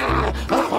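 A loud, close dog bark or growl-like woof, brief and rough, filling the short moment.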